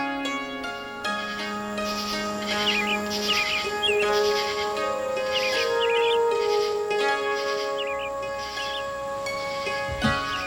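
A person imitating a bird call, with repeated short chirpy whistles over a steady tonal musical background, moderately loud and close, ending in a brief thump.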